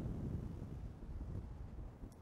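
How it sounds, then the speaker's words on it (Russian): Strong wind blows across the Yachting Bridge in Saint Petersburg, a continuous low buffeting roar battering the microphone for the whole stretch, loud and unbroken, with no voices. "Да, ветер очень сильный."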